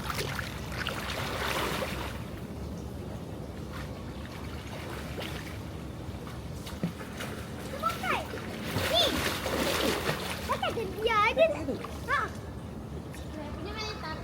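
People splash about in water while bathing after dark, with irregular splashes and sloshing under lively group talk and children's voices throughout.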